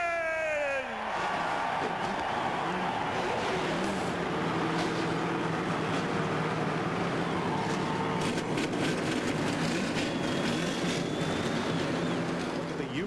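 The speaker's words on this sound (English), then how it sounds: "gentlemen, start your engines!" Dozens of NASCAR stock car engines fire up together at the start of the 2001 Daytona 500, swelling into a dense, continuous roar with crowd noise. A brief falling tone opens the clip.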